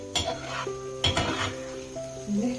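Boondi deep-frying in hot oil, a soft steady sizzle with a slotted ladle stirring and clinking against the metal pan several times, close and without talk.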